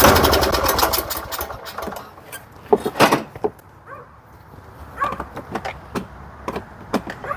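A 2013 Cub Cadet LTX 1040 lawn tractor, started after sitting for years, runs with a rough, sputtering engine: uneven bursts and pops over a faint idle, with a loud first moment and clicks and knocks scattered throughout.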